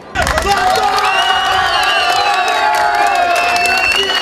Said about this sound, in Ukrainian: Ось так із рушними овацями проводжали в роздягальню після матчу фани Платона